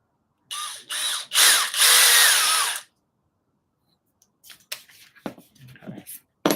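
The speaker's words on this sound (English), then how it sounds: "This is my replacement drill that DeWalt sent me" A DeWalt replacement drill whirs in several short bursts, close and loud, with pauses between trigger pulls, followed by quieter handling clatter and scattered knocks.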